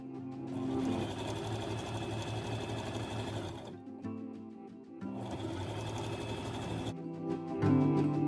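A sewing machine stitches line after line across a white strip of fabric, running in two long steady bursts with a short pause between them, close and clear with no talking.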